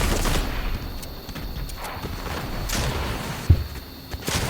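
Gunfire in a shooter video game, a few scattered shots and thuds over a noisy game background, with one sharper bang near the end.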